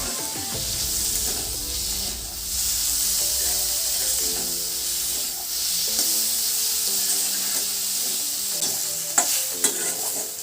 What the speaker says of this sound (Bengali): তো এটাকে বেশ কিছুক্ষণ ভেজে নিতে হবে ভালোভাবে